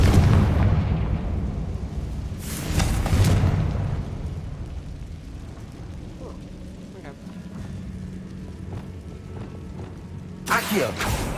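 Confringo blasting spell in Hogwarts Legacy, heard as two broadband blasts about eight seconds apart, each with a rumbling tail, over a steady low game ambience with faint talk in places.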